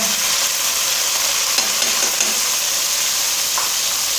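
Golden fried onions with tomatoes sizzling in a pan for matar keema, a loud, continuous frying hiss with a few stirring scrapes, no talking.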